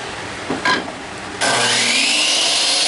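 A power saw cuts wood pieces for a bird feeder, starting after a moment of quieter shop noise and then running with a loud, sustained whine right up close until the end.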